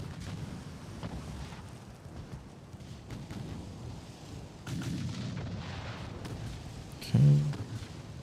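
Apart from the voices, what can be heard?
armored cruisers' secondary guns firing, video game Ultimate Admiral: Dreadnoughts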